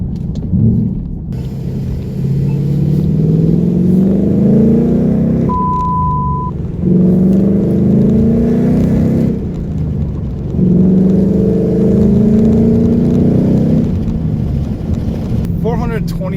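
2018 Ford Mustang GT Performance Pack 1 with a manual gearbox accelerating: three loud rising engine pulls, each ending in a gear change, heard from the cabin with wind buffeting.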